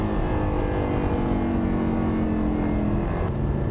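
A 2009 Lamborghini Gallardo LP560-4 with a single-clutch gearbox and all-wheel drive revs hard while driving, its engine note rising as it climbs through high rpm, steady and close for a few seconds.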